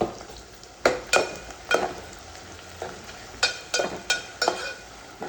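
Two medium chopped onions frying in a pan for chicken curry, a soft continuous sizzle broken by repeated scraping stirs of a spatula at an uneven rhythm, close and alone without talk.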